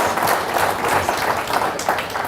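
Audience at a symposium applauding, a steady wash of many hands clapping together throughout, fairly loud with no break.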